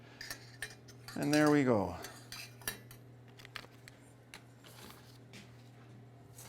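A wet oatmeal stout bread mixture is stirred in a bowl with a utensil, giving soft, scattered clinks and scrapes. A short spoken phrase comes near the start.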